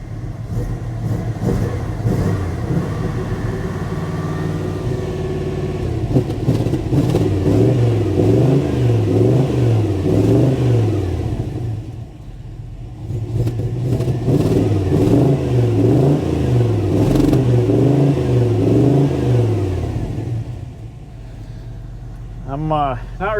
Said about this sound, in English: This truck is super cold-blooded. Runs like really rich.